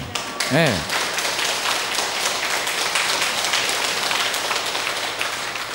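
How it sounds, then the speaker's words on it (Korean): A lecture audience claps together, a dense, even patter of many hands that runs steadily for several seconds after a brief voiced sound at the start. "박수 쳐주셔서 감사합니다."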